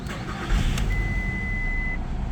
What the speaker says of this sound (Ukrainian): Так, заводимо автомобіль.